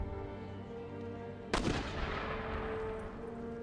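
A single loud artillery blast with crackling gunfire from a Napoleonic-era battle in Empire: Total War, striking suddenly midway over a steady low rumble of battlefield ambience, then decaying into distant noise.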